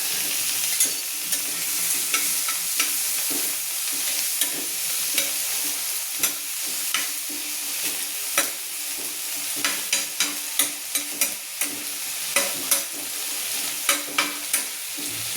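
Garlic, onion, capsicum and tomato fry in a pan with a steady close sizzle, while a spoon stirs and scrapes in irregular taps throughout.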